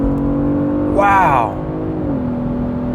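Engine note of a 2022 Genesis G80 Sport with active sound design turned to its loudest, a steady low drone swelling as the car accelerates on a night drive and then easing, with a brief exclamation over it.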